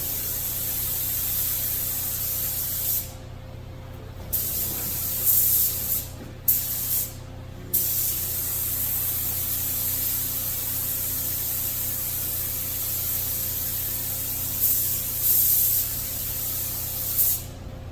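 Aerosol spray paint hisses in steady bursts onto the dash pad of a 1972 Buick Centurion, with several short pauses between sprays, close by and fairly loud.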